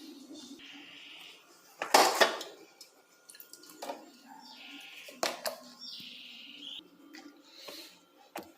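Eggplant slices being set to drain in a draining basket, with scattered clinks, drips and light clatters of kitchenware against faint background noise, loud knocks at moments.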